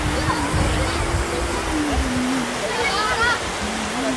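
Water rushing over the CSR check dam at Chalakudy, a broad steady roar of flowing water, with a voice talking over it throughout.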